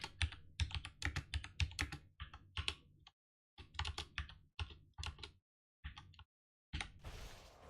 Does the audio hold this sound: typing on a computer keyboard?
yes